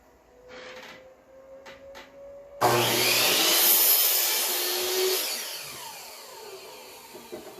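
Power saw cutting through wooden boards for a DIY tool shelf: a quiet hum with faint knocks, then the blade bites in at once with a loud, sustained rasping whine that eases toward the end.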